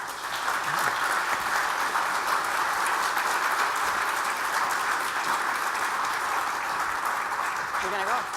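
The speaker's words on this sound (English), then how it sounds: "A round of applause for our panelists," Sustained audience applause for panelists at a corporate panel discussion, a dense, steady wash of clapping from a large crowd that holds loud and even throughout.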